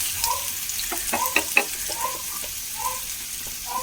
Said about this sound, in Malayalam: ചെറുള്ളി അരിഞ്ഞതാണ് മൂക്ക് വരട്ടെ